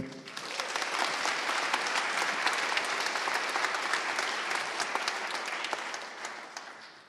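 Audience applause at the closing ceremony of the BSides London 2014 security conference: dense, sustained clapping from a crowd that holds steady for several seconds before tapering slightly at the end.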